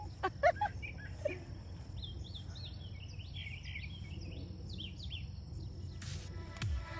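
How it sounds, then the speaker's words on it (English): Birds chirp and tweet outdoors in Texas on a sunny day, small quick calls scattered across the scene at moderate distance over a steady low background hum with insect-like buzzing. "Can you hear the birds?"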